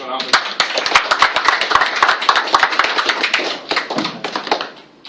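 An audience applauds loudly at a government announcement of a local airline's certification to fly a Boeing 737, with dense, close, crackling clapping that rises and then thins out toward the end, and voices murmuring underneath.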